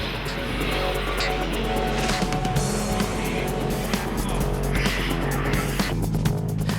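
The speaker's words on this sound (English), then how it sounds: "Japan's drift cars all in the one place at the one time." Japanese drift cars scream around a circuit with tires squealing continuously, engines roaring and revving loudly and close, several cars overlapping in a dense, unbroken din.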